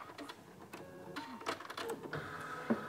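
A sewing machine worked by foot pedal stitches in short, uneven bursts of quick mechanical whirring and ticking, quiet and close with no talk.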